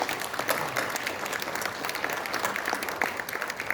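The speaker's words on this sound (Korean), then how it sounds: "여사님께 다시 한번 박수를 보내주시기 바랍니다" A ceremony audience at a national founding anniversary and patriotic award event applauds an honored guest, a continuous roomful of clapping at moderate volume with occasional louder claps rising above the mass.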